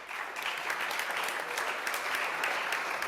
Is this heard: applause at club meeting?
yes